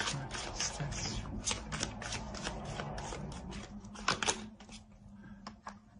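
Tarot cards riffled and shuffled at close range, a run of quick crisp flicks and slaps that thins out toward the end, followed by a couple of soft taps as a card is drawn and laid down.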